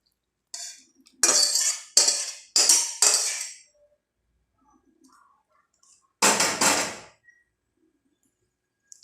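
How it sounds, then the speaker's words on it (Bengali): A pot of mustard katla fish curry comes off a gas stove in a quiet kitchen with a run of sharp metallic clanks and scrapes, then, after a pause, a final longer scrape. "এই দেখুন তরকারিটা আমি নামিয়ে দিলাম।"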